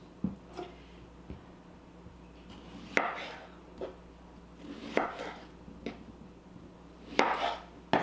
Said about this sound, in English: I like these smaller ones because I can just quarter them and then they're perfect